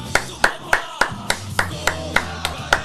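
Hands clap in a studio after a Paraguay vs Colombia football match, about nine sharp, evenly spaced claps in a brisk, steady rhythm, close and clear.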